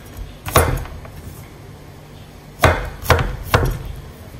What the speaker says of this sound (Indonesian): Satu labu bawang putih ya. Kita potong besar-besar macam ini.